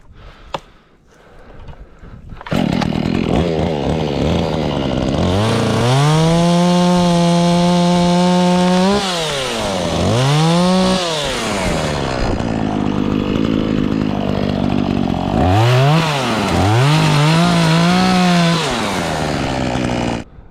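A chainsaw revs loudly and bites into wood while clearing bushes and roots from a plot, its engine pitch dropping and rising as it cuts, then easing off between passes.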